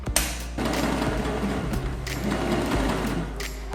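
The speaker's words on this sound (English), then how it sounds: "Just gonna do a little test first to set my stitching." A sewing machine runs steadily through a test seam on thick, spongy, elastic harness padding, its close, continuous motor whir and rapid needle clatter holding for nearly four seconds with brief dips.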